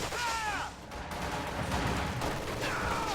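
MG42 machine gun in Company of Heroes firing in sustained bursts amid a busy battlefield din, dense rattling gunfire that stays loud and continuous.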